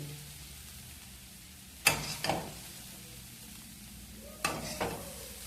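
Cooked carrot being stirred into a custard, with two short scraping, clattering bursts of spoon against pan set apart over a quiet, hissing kitchen background.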